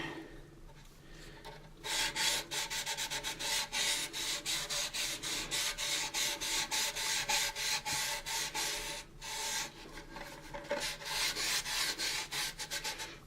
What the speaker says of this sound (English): What I'm going to do is I'm going to sand up in here, and you can sand along here too.